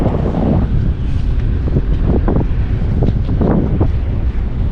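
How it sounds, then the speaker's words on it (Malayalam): Strong wind roars and buffets the microphone outdoors beside a flooded roadside on a walk from Dubai toward Saudi Arabia, a loud continuous rumble with gusty surges. "നല്ല കാറ്റ് വീശുന്നുണ്ട്."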